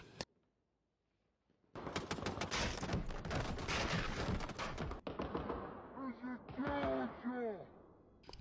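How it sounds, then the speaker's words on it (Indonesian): Rapid bursts of gunfire crack through a film shootout during a prison-break robbery story, dense and loud, overlapped by shouting voices and later by music. "Di sini baku tembak antara mereka pun tidak terelakkan."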